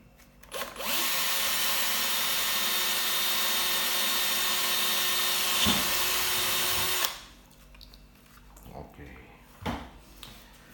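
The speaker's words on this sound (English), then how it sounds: "So I can drill from the top." A power drill whines steadily at close range for several seconds while drilling into the top of a safe, then cuts out, leaving quieter clicks and handling noises.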